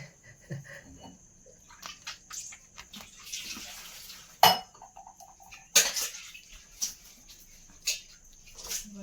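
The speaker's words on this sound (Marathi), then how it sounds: "भांडी आपटते का काय" Metal utensils and dishes clatter in a series of sharp, scattered knocks and clanks, some loud and close, with quieter rattling and a faint watery wash between them.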